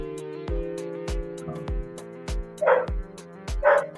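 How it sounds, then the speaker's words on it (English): A dog barks sharply about seven times at a steady pace, close by, with a whiny yelp mixed into the last few barks. "You hear the barking?"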